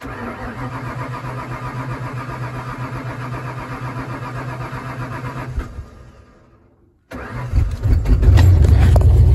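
A Ford Bronco starts in snowy weather: a steady cranking drone runs for several seconds, cuts out briefly, then the engine catches and roars loudly up to a rumbling run.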